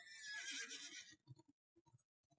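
A horse whinnies loudly in Dungeons and Dragons Online, a bright drawn-out neigh lasting about a second, followed by a few soft low snorts and hoof-like thumps.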